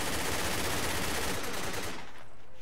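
Dense gunfire in the video game Project Reality, rapid continuous shots that blur into a loud roar before cutting off near the end.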